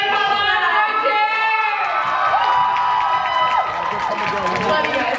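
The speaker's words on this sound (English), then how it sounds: "So, big round of applause for our chair!" A festival crowd at the close of CultureFest 2016 breaks into loud applause, cheering and whoops for the event's chair, a dense, sustained roar of many voices and hands with shouting throughout.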